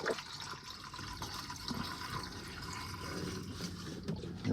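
Liquid steadily pours and gurgles into an RV bathtub drain, a continuous splashing wash of water at a low, even level.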